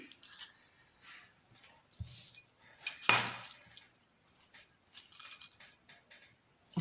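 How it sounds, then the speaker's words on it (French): Coffee beans are poured into a small manual coffee grinder, a quiet run of light clinks, rattles and metallic taps with one sharper clatter partway through, close and faint, with no talk. "Donc, il va verser les grains du café ici."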